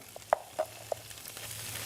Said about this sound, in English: It almost sounds like it's frying there.